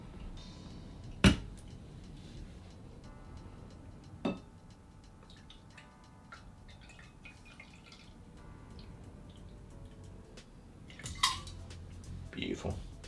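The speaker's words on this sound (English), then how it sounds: "So get your martini glass or a little coupe glass and strain into it." A Roosevelt cocktail is strained from a shaker into a martini or coupe glass. Quiet pouring and trickling come with a few sharp clinks of metal and glass, close to the mic and faint, with a voice talking in the background.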